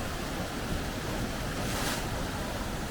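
Sea waves surging into a rock crevice along a rocky California shoreline, a steady close roar of churning surf and wash with wind noise throughout, no speech.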